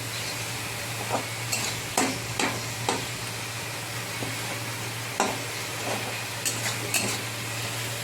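Spices and softened tomato stir-fry in a pan, a loud continuous sizzle with repeated spatula scrapes and clinks against the metal at an uneven rhythm.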